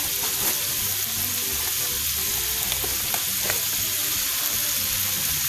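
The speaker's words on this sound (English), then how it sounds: "So our water over here is coming to a boil." Water coming to a boil in a cooking pot, giving a constant bubbling hiss with small pops and crackles, close and steady throughout.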